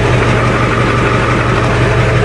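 A 1952 Ford truck engine running steadily in reverse, a loud, even low rumble with no talk over it.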